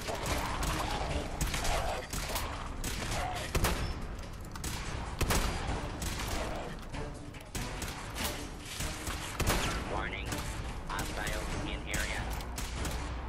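Gunfire in Fallout 4, repeated loud shots and bangs scattered through a busy, noisy scene with a voice speaking over it.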